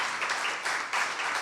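Audience applause at a live queer poetry evening at the Comédie de Montréal, a steady wash of many hands clapping throughout, moderately loud with slight swells, no voices over it.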